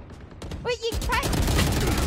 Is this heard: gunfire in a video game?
yes